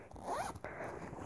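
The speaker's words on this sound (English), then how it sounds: "look at the inside, there's a zipper" A zipper on the inside of a padded logo merch bag is pulled open in one quick, close rasping run, followed by faint handling noise with no talk.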